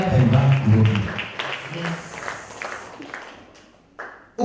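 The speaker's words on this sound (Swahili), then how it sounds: "Pigia Yesu makofi mazuri." A church congregation claps together at a mega kesha night service, a burst of loud rhythmic clapping that fades into scattered claps and voices, ending with a few sharp isolated claps.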